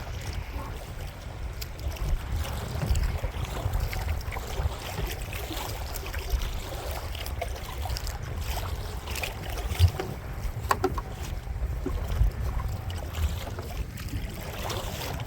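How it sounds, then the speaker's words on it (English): Strong wind and choppy lake waves buffet a small boat, making a steady, close, rumbling wash with irregular slaps and gusts that runs throughout with no talking. "it's a little choppier out here than I thought it was going to be today. Lots of wind."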